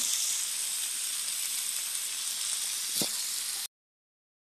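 Dried shrimp hits a pan already sizzling with oyster sauce: a loud, steady frying hiss with one brief soft thud near the end, then sudden silence.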